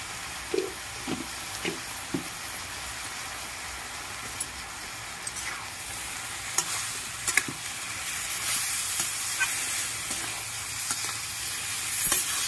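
Kochu shak with raw chickpeas and coconut sizzles and fries in a pan while being stirred, with scattered scraping clicks of the spatula over a constant hiss, close and fairly loud, without talk.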